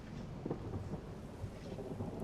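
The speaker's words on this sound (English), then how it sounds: "There is a storm brewing." Thunderstorm in the submarine game Silent Hunter III, with a low continuous rumble of thunder, wind and rain at sea, steady and fairly loud throughout.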